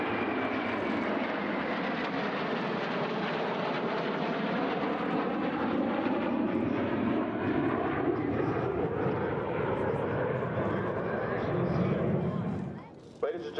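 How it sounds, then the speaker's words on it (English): An F-18C jet during air-to-air refueling gives a loud continuous engine roar throughout, with a slowly shifting tonal whine layered on top, before it cuts off abruptly near the end. "Plugged in receiving fuel is an F-18C from VFA 106,"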